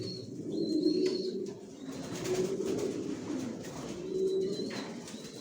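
Johnson line racer pigeons of an old bloodline coo in soft, swelling waves, several birds murmuring together up close with a few faint chirps above and no voices.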